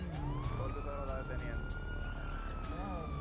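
Police patrol car siren wailing in a steady rising-and-falling sweep, loud and close, with a second siren tone overlapping near the end and people talking underneath.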